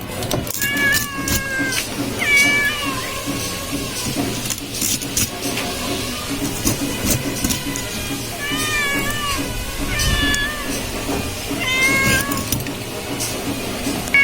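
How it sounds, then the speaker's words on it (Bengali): Minu the cat meowing insistently for food in a kitchen while fish is cut, with several drawn-out, wavering meows repeated close by over a steady background clatter. "মিনু হচ্ছে খাওয়ার জন্য একদম মেউ মেউ করতেছে"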